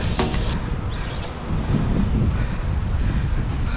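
Steady, loud wind buffets the microphone with a continuous low roar, with no voices.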